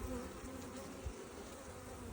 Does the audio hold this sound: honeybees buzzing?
yes